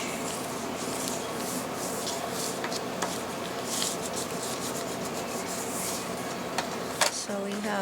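Steady rubbing of a burnishing tool over paper while assembling a handmade baby mini album, a continuous close scraping texture with a few small taps near the end.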